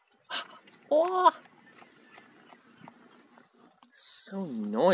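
House cats at meal time let out a few short wavering meows, one near the start and a longer, louder one at the end, separated by quiet rustling, with people talking.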